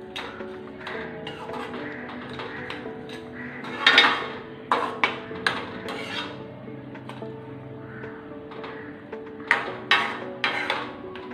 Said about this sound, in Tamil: இப்போ அதையும் மிக்ஸ் பண்ணிடலாம்.